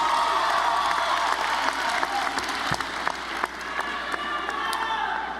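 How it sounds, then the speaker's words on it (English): Graduating students at a high school graduation ceremony applaud their parents, a large crowd clapping steadily with scattered cheers and whoops mixed in and some voices underneath. "Students, give your parents a round of applause for helping you get to this moment"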